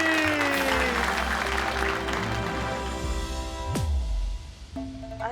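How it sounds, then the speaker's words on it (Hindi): Audience applause from a comedy show forms a dense wash of clapping mixed with sustained musical tones, fading partway through as a swooshing effect and a short music sting follow. "जोर से बजाओ ताली।"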